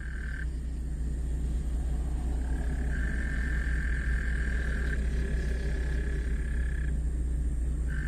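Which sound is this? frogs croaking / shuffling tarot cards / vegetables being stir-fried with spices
frogs croaking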